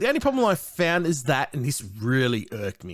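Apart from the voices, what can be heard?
No everyday noises stand out.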